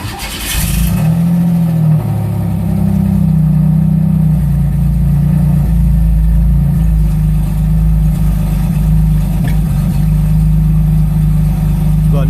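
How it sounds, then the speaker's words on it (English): A car engine cranks and catches, then settles into a steady, loud, close idle that runs without a break; a hydraulic brake system is being worked on nearby. "now we're going to start the car"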